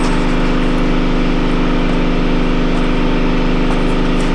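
A 2013 Dodge Grand Caravan engine runs steadily at a loud, close idle with a constant even drone throughout and no voices.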